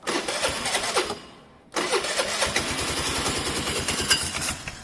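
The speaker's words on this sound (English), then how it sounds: "this bike is a normal bike. It should start after a few days of sitting." Kawasaki ER5 motorcycle starting after sitting a few days: a loud near cranking burst, a brief dip, then the engine catches and settles into a steady rapid idle thrum.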